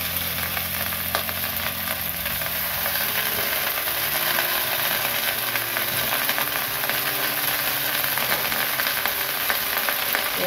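Bottle gourd greens hit hot oil already seasoned with turmeric and salt, giving a loud, steady, broadband sizzle that holds alone for about ten seconds, with a low hum underneath.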